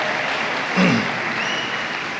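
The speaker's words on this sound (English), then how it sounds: "Let's give Michelle a round of applause." Banquet guests at a high school football banquet applaud Michelle Albritton, a steady wash of clapping with a brief voice or cheer rising partway through.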